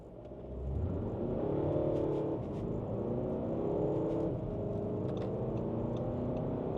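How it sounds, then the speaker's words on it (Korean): A ten-year-old Volkswagen Golf diesel with about 450,000 km pulls away from a standstill up a slight hill in town, heard from inside the cabin as a steady, moderately loud engine drone that rises and holds with no talking. "정지 상태에서 가속하는 것도 한번 보여드릴게요."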